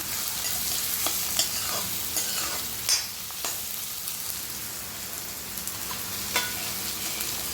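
Garlic and vegetables stirred in a kadhai while frying, a steady close sizzle broken by several sharp scrapes and clinks of the spoon against the pan, with no voices heard.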